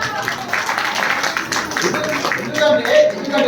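Audience members at a Vestige business meeting clap together in a dense, continuous patter, with talk running over the applause throughout.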